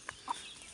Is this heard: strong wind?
no